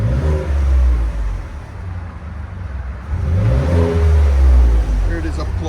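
A 2020 Ford F-150 with a 3.5L EcoBoost V6 and Gibson exhaust revs close by with a deep low rumble that dips and then swells again, mixed with a voice speaking.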